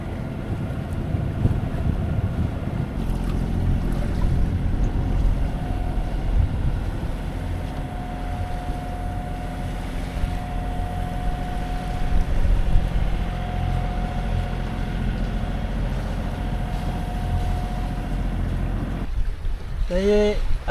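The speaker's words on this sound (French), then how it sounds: "là j'ai enfin touché un super vent, fort en plus" Strong wind roars across the microphone aboard a sailing boat off the Greek islands of Lemnos, Lesbos and Chios, a loud constant rush with water noise and hull sounds, no speech.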